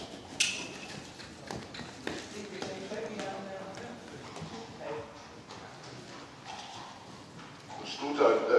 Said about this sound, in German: also das Fohlen hat ungefähr gleich viel Trab und Tölt